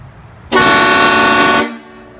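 A Klein HK9 air horn sounds one loud, steady blast of just over a second, starting abruptly and tapering off quickly. It is close and clear, with no talk over it.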